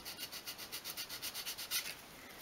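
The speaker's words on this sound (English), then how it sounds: "sand that bottom edge" A small wooden piece for a 1/12th scale miniature magazine rack is sanded along its bottom edge, giving steady rhythmic back-and-forth rasping strokes, close and even, with no talking.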